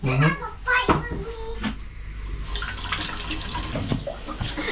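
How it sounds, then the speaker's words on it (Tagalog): Water running from a household tap, a steady hiss that starts partway through, with children and adults talking over it and a few clunks and knocks nearby. "Nandiyan siya, nagkuha ng tubig."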